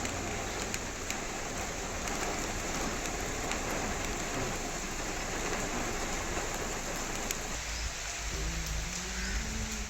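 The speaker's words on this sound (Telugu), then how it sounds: "అకస్మాత్తుగా ఈదురుగాలులు వీచి ఉరుములు మెరుపులతో వర్షం పడింది" Heavy rain pours steadily through a thunderstorm in Telangana, a dense continuous hiss of drops hammering surfaces, close and loud throughout with no voices.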